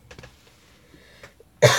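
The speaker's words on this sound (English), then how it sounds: "Sorry for all the coughing" A person crafting a dragon eye bracelet indoors gives a single loud, harsh cough near the end, after a second and a half of faint handling noises.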